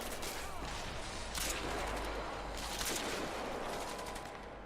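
Enemy gunfire in the video game Crysis 2 rattles steadily through the scene as dense, continuous shooting, with louder bursts standing out around the middle; the mix stays busy and loud throughout.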